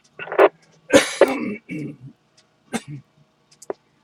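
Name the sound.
throat clearing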